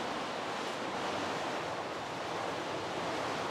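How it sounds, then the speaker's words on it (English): Heavy rain pours down outdoors in North Wales as a dense, steady hiss of water, loud and unbroken, with no voices. "How about that for a bit of rain then?"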